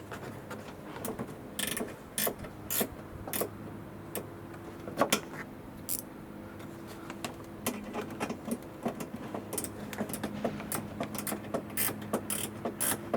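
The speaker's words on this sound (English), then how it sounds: "Here we go, I think it's screwing in" An LED side light is screwed into the housing of a Vauxhall Antara, giving a run of small clicking and ratcheting ticks at an uneven pace, close up over faint background hum.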